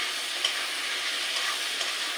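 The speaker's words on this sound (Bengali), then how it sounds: "হলুদ দিলাম, দিয়ে এটাকে নাড়াচাড়া দিয়ে হালকা পেঁয়াজটা বেশ লাল লাল হয়ে যাবে" Onions with turmeric frying in a pan, a steady even hiss of sizzling oil with a faint clink of stirring, close and continuous, no talk.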